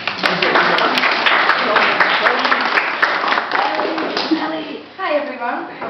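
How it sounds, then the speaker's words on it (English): Audience applause fills the space with steady, dense clapping that holds strong throughout, thinning and dipping briefly near the end before a short final burst of claps. "Let's give them an applause."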